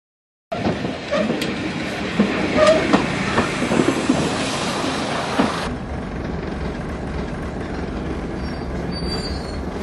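A train rolling along rails in an underground station setting during a signal failure, with a loud steady rumble, clattering wheels and occasional squeals that drop to a lower, duller roar midway as it slows.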